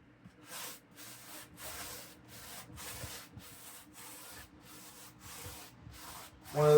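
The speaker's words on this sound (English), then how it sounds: "I'm going to throw on a second coat of this dry lock on this Lon Chaney's tombstone." A brush spreads a second coat of gritty, sand-textured Drylock masonry paint over a homemade Lon Chaney tombstone, giving steady, rhythmic scratchy strokes, close and fairly quiet, with a louder bump at the very end.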